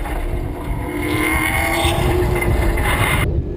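A Southwest Superlates race car at Willow Springs International Raceway, spun off the track onto dirt, has its engine revved hard to get it back up the hill. The drone is loud and sustained, and wind rumbles over the microphone.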